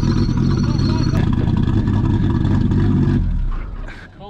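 A worn car engine at a racing build revs loudly and steadily close by, a dense rough roar that holds for several seconds before dropping away toward idle at the end.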